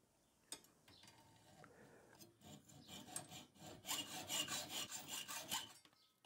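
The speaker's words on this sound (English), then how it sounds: "I'm cutting the rebate out with a hacksaw" A hacksaw cuts a rebate into a tensioning bolt, starting with scattered taps and handling noises, then settling into steady, rhythmic back-and-forth rasping strokes that grow louder toward the end, close and alone.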